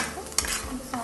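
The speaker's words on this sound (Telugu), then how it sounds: "తొందరగా వేగిపోతుంది అంటారు ఉల్లిపాయలు" Onions fry in a pan with a soft sizzle under a few quick stirring scrapes and clicks of a utensil against the metal, close by and fairly quiet.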